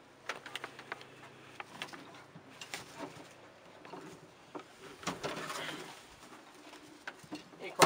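Vos racing pigeons in a loft give soft, low cooing calls, mixed with faint scattered taps, wing flutters and shuffling, fairly quiet and close.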